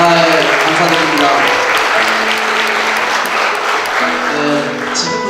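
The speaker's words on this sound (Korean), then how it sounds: "귀한 강연해주신 홍세훈 신부님께 다시 한번 큰 박수 부탁드리겠습니다" Loud, sustained audience applause after a priest's lecture at a Korean unification forum, dense clapping filling the whole stretch, with faint voices and a low hum beneath.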